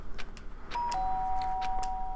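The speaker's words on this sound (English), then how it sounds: "did I hear a doorbell?" Electronic doorbell chimes in the Danganronpa video game, a few bright ding tones over soft game music with sustained tones lingering afterward, no voices.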